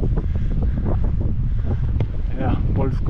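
Steady wind buffeting the microphone, a low rumbling roar throughout with a voice talking faintly underneath.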